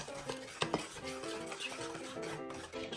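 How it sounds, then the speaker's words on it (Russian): A spoon stirs mochi batter in a bowl, with scraping and clinking against the sides in quick repeated strokes, close and fairly loud, with no talking. "добавляем и нужно смешать это все до однородной массы"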